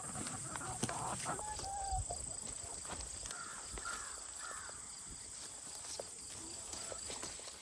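Birds cawing, likely crows, while pecking at sweet potato scraps outdoors after a harvest, with several scattered calls over steady insect chirping and a faint, brief voice.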